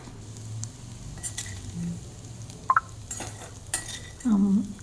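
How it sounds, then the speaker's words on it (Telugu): Eggs fry in a pan for noodles, with a soft background sizzle under clinks and scrapes of a utensil stirring against the pan. There are a couple of sharp taps and a brief scraping sweep at the end. "రెండు ఎగ్స్ని మనం బాగా వేయించి తీసేసుకోవాలి"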